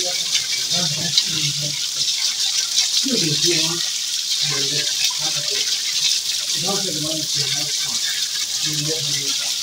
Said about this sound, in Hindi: चश्मे का पानी आ रहा